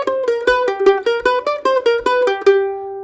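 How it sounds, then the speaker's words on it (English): Mandolin plays a quick four-beat sliding lick of rapid picked notes, a clean run of bright plucked attacks ending on one held ringing note, close and alone. "the slidey lick is a four beat lick that sounds like this."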